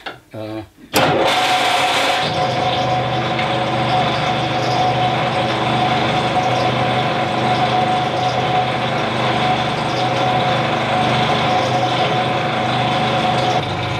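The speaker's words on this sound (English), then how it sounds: "as the bar rotates, the tool post will move slowly down the bed of the lathe, creating the thread with any luck" A metal lathe turns a bar while the tool post cuts a screw thread, a loud continuous mechanical whir and grind with steady harmonic hum that starts after a brief clunk and rattle.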